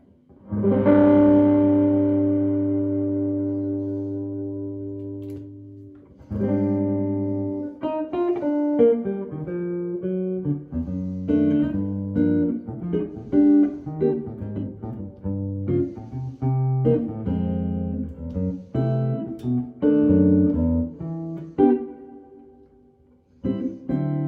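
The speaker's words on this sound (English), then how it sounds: "if we just take a tad of reverb here, and roll back the treble a little bit" A Maybach Jazpole 63 electric guitar, treble rolled back, opens with a long ringing chord, then plays clustered chords and single notes, warm and mellow with a soft reverb tail, no voices.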